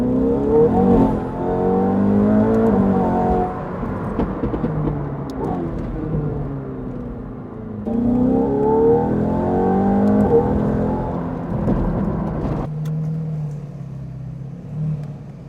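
A McLaren 720S Novitec accelerates hard in second gear, a loud engine roar climbing in pitch through two surging pulls before easing off, heard from inside with no talk over it.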